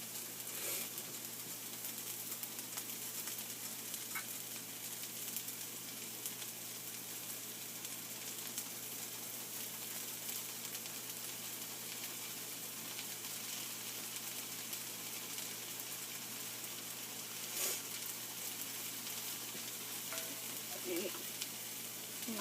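Onion caramelizing in a pan gives a continuous, even sizzle and crackle for over twenty seconds, with a few faint scrapes from stirring.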